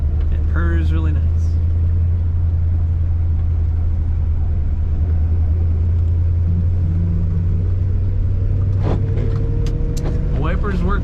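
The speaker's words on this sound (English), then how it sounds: "You can just barely touch the gas when you're taking off at first, and it purrs really nice." A 1957 Chevrolet Bel Air 2-door hardtop pulling away gently, its engine a low, steady, smooth rumble close by throughout, with someone talking over it.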